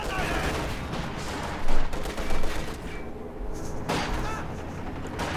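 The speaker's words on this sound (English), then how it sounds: "Small arms fire." Small arms fire crackles through a Company of Heroes 2 battle, a dense mid-level clatter of shots with two louder bursts early on and ongoing background rumble, mixed under faint voice-like sounds.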